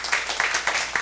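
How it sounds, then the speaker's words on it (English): A meetup audience claps for the next presenter, a brief burst of crisp, moderately loud applause with distinct rhythmic hand claps standing out in the wash. "give him a round of applause"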